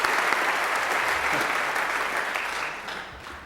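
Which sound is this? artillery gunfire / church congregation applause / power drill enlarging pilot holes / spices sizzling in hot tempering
church congregation applause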